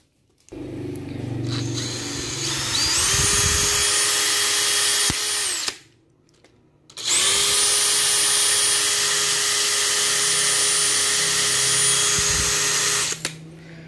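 A Dewalt DCD796 cordless hammer drill runs in two long bursts, winding up to a loud, high steady whine with a short silent pause between, then spinning down.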